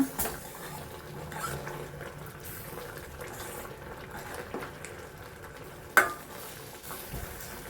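A wild mango mustard curry simmers in a pan with a soft, steady bubbling and faint sizzle, broken by a few light clinks and one sharp utensil tap.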